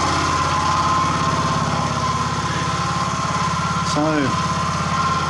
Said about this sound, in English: I'm going to stop the engine